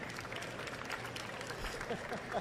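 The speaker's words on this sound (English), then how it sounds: "Give him a round of applause, please." A crowd applauds at an expo panel, the clapping quiet and distant, a steady patter with faint voices mixed in.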